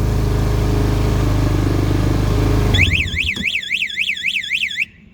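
Kuba MX220 200cc off-road ATV engine running with a loud, rough idle for about three seconds, then cutting off as a rising and falling electronic warble of its security alarm takes over and stops abruptly.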